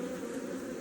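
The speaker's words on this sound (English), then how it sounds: "there's a lot of bees near my hand there" Honey bees buzzing in a dense, steady drone during a hive inspection, close to the microphone and continuous throughout the brief moment, with no talking.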